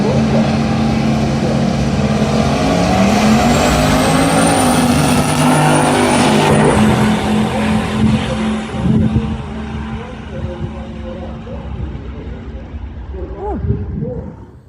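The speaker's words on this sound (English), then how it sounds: "Red Wing is Dane Thompson. 54 Chevy Malibu" A 1954 Chevy Malibu drag car at Texas Motorplex roars loudly down the strip, its engine note climbing and then fading as it pulls away, with an announcer's voice over the race.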